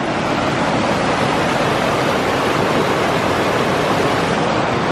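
Rushing water of Evolution Creek at a trail crossing, a steady, loud, broadband roar that fills the whole moment without pause or voices.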